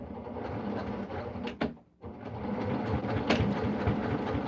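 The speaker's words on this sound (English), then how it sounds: "I'm just going to sew off the corner, flip it around." A sewing machine stitches off the corner of a fabric needle book, a steady close mechanical whir broken by one short pause before it runs on again.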